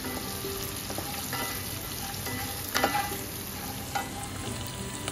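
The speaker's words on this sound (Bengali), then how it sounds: "হিঙের পর কারি পাতা দিয়ে আবার একটু নাড়াচাড়া করে নেব।" Hing and curry leaves sputter in hot ghee as a spoon stirs them, a steady close sizzle broken by a couple of sharper scrapes and pops.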